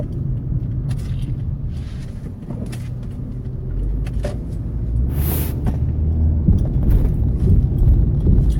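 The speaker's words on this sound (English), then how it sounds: "I did tell you that I am driving to work, right?" Car driving on the road during a commute to work, a steady low engine and road rumble running throughout with a few faint clicks and a brief hiss midway, no talking.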